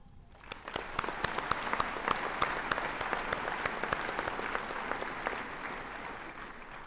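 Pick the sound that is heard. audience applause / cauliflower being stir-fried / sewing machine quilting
audience applause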